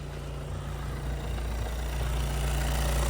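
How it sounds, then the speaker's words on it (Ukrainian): A 2020 Volkswagen Passat B8 with a 110 kW engine idles steadily after a cold start, a low, even hum that grows slightly louder, with no voices over it. "Зараз зробимо холодний запуск, послухаємо, як працює двигун і чи не тарабанить демпфер."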